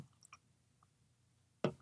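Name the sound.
beer being poured from a can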